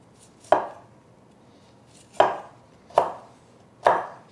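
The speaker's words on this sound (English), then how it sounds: "I'm just cutting up some of the larger florets." Four crisp knife chops through large vegetable florets on a cutting board, each a sharp close thud with a brief decay, irregularly spaced with quiet gaps between, no talking.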